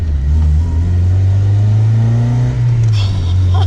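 A 2018 Honda Civic Type R with a Vibrant exhaust drones loudly and steadily with its engine revving, the note rising slightly and then settling, close up and without any talk.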